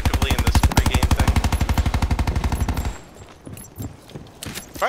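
Rapid automatic gunfire from Call of Duty Black Ops 4, a loud steady stream of closely spaced shots for about three seconds, then cutting off into scattered quieter game sounds and a few distant pops.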